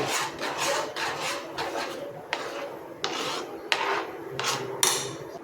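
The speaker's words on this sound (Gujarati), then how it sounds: "બરાબર પાણી સાથે આપણે ચટણીને મિક્સ કરી લેવાની છે।" Repeated rough scraping strokes of a spoon stirring thick date and tamarind chutney with water in a bowl, steady and close with no talking.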